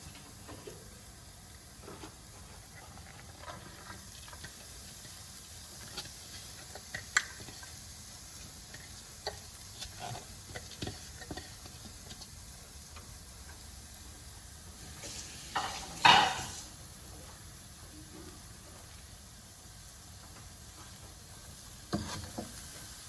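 Chopped carrots and coconut stir-frying in a pan, a steady soft sizzle with scattered stirring clicks and scrapes, and a louder burst of hissing near the middle, heard alone without talk.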